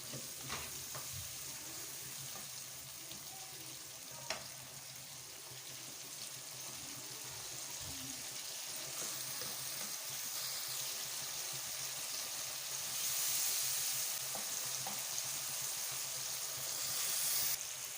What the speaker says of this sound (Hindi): और इसको भी हल्का सा फ्राई कर लेंगे।